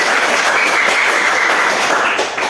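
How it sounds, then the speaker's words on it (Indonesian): A classroom of students applauding a classmate, brisk dense clapping that carries steadily for a couple of seconds before easing off. "kita tepuk tangan"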